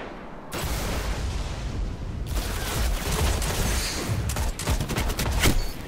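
Rapid sustained gunfire and explosions from the shooter video game Destiny, dense and loud throughout with sharp bursts toward the end.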